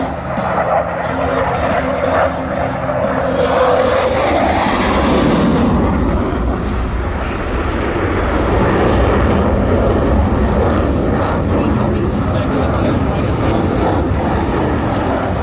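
A RAAF F/A-18 Classic Hornet jet flying a tight, slower minimum radius turn at an air show, a loud continuous roar that shifts in tone as it passes, unbroken throughout.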